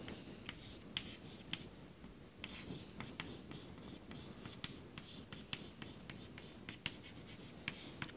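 Chalk or marker scratching across a board during a mathematics lecture on limits of functions, a steady run of short close strokes and taps with no talking.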